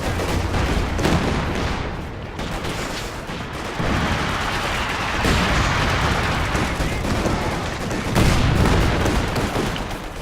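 Jagdtiger tank cannon fire in Company of Heroes 2, heavy booming shots punctuating a dense, continuous battle din of artillery and small-arms fire, loud and close throughout.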